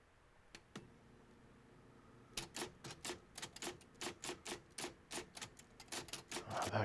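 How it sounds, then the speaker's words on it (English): Typewriter sound effect: a short pause after two isolated clacks, then a fast, steady run of crisp key strikes, close and clear, with a bell-like ding near the end. "I just want a typewriter."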